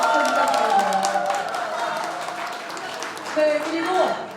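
Audience clapping for two teachers at a Korean talk concert, a steady wash of applause from a crowd filling the hall, with some cheering mixed in.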